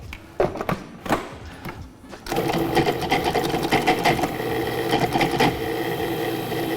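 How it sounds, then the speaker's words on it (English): A food processor pulses roasted beets, starting with a few short bursts before settling into a loud, steady whir that runs for several seconds with no talking. "we're going to add our roasted beet to our food processor, and we're going to give it a quick pulse"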